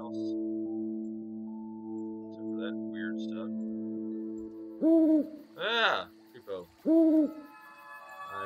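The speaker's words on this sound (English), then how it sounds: "Scared the owl away." An owl hoots in the video game Rusty Lake Paradise: three clear, close hoots in the last few seconds, following a long stretch of sustained tonal ambient music with faint chimes and no talking.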